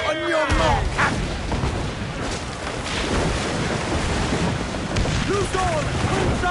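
Ship cannon fire during a naval battle in Assassin's Creed IV Black Flag: booming blasts over constant wind and sea noise, with shouting crew voices mixed in throughout.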